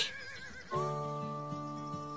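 A horse at a ranch lets out a loud, close whinny that starts shaky and settles into a long, steady neigh.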